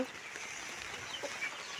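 A hen clucks faintly in short, soft bursts, mixed with a few thin chirps over a quiet outdoor background.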